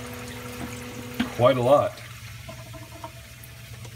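Aquarium auto top-off pump on a Red Sea Reefer 250 reef tank briefly kicks on, giving a short burst of trickling, pouring water over a steady low hum, with someone talking nearby.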